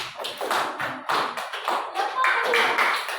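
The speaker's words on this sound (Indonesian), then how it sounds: "Tepuk tangan buat kelompok 1." Classroom group applauding one student team during a coding lesson, a brisk burst of close hand claps and taps that comes and goes in waves across the clip.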